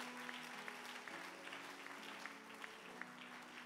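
A church congregation claps, faint and distant, with scattered rhythmic claps over a dense crowd wash and a low sustained tone underneath.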